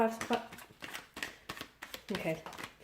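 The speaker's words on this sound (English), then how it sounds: "give the cards a shuffle" Tarot cards are shuffled in quick, rustling bursts, repeating several times, while a person talks over the shuffling.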